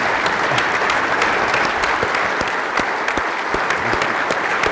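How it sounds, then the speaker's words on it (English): An audience at a cycling team presentation claps steadily, a dense even round of hand claps with no speech over it. "If everyone could give these guys a round of applause."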